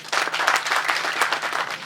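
An audience claps at the opening ceremony of a new insurance agency in Ouagadougou, with loud, dense applause starting abruptly and holding steady with individual claps audible in the mix.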